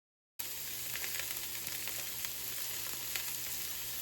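Onions with a pinch of salt frying in hot coconut oil, a steady close sizzle and crackle that starts abruptly and continues evenly with small pops throughout.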